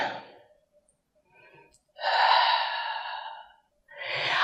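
Slow, audible breaths during an abdominal stretch in a scar-tissue and adhesion exercise routine, with a long sighing exhale in the middle and another breath starting at the end, close and alone with no talking.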